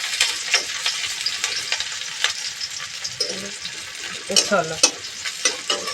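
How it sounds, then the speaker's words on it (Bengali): Onions dropped into hot oil give a close, crackling sizzle with scraping stir strokes and spatters, and a brief voice speaks once. "এই যে তেলের মধ্যে দিয়ে দিলাম পেঁয়াজ"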